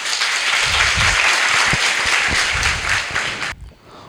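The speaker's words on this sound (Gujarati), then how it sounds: "આપણે જેમ વરસાદરૂપી તાળીઓથી સરનો આભાર માની" A school assembly audience breaks into sustained, dense applause, loud and steady for about three and a half seconds before cutting off abruptly into quiet room tone.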